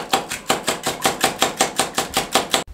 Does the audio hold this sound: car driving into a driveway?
no